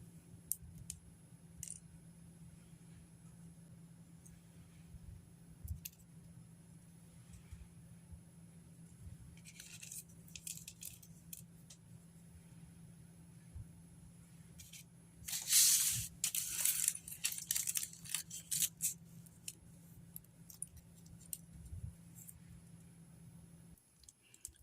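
Small die-cut holes being pushed out of paper by hand at a craft table, a run of faint crinkly pops and rustles clustered mid-way, over a steady low hum with no talking.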